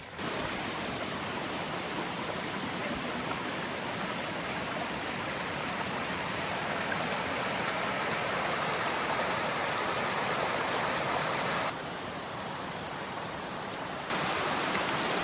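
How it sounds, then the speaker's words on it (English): Water pours over a waterfall on the Oxtongue River in Algonquin during rainfall, a constant broadband rushing roar heard close by, briefly dipping and returning near the end with no voices. "coming up on the waterfall"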